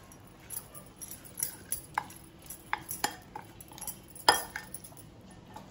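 Spoon clinking against a bowl while Maggi bhel is mixed, a run of light scattered clinks and taps with one sharper hit near the end, close and fairly quiet with no talking.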